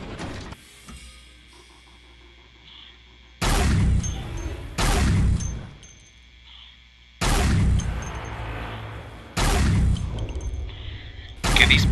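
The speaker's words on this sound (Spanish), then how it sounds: "Disparos tan más raros" Shotgun blasts in the first-person shooter Dead Effect: four loud, separate booms, each a sharp broadband crack with a decaying tail, evenly spaced over a low game ambience with faint background tones.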